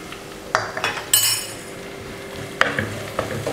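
Pepper powder being stirred into browned onions in a hot pan, with soft scraping and a few sharp utensil clinks against the pan over a low steady sizzle.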